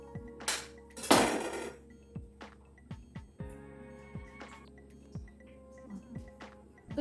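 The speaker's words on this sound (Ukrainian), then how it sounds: "Нам потрібно від білка відділити жовток. Жовток в тарілочку, а білок в велику мисочку." Eggs being cracked and the yolks separated from the whites into a small plate and a large bowl, with close, sharp clinks and taps of shell and utensils against dishes at irregular intervals.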